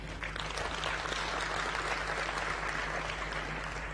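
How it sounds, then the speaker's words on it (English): Steady applause from a large audience at an annual members' meeting, a dense even patter of many hands clapping at a constant moderate level throughout, with no voices over it. "I think deserves a very, very big hand clap"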